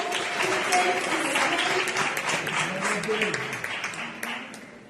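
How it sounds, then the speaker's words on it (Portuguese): A church congregation applauds in a steady dense wash of clapping during a worship service, with voices mixed in beneath it. "Aplauda o Senhor"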